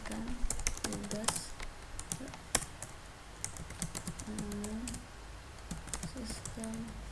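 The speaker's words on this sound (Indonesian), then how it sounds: "Misalnya kita ketikkan tugas" Fingers type quickly on a computer keyboard with a steady patter of close, crisp key clicks, while a voice speaks faintly in the background.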